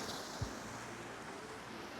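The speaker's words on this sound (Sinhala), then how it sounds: "උඩට යන්න ගොඩක් වතුර පාරවල් හම්බෙනවා මේ වගේ." A glacier meltwater stream flows on Mount Kazbek in Georgia's Caucasus mountains, a faint steady rush blended with wind noise and a couple of soft low thumps.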